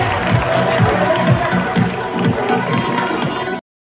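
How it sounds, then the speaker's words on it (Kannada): An audience at a lifetime achievement award ceremony held by the Department of Kannada Culture in Bengaluru claps in a loud, dense, rhythmic wave before it cuts off abruptly. "ಪ್ರೀತಿಯ ಚಪ್ಪಾಳೆ ಎಲ್ಲ ಸಾಧಕರಿಗೆ"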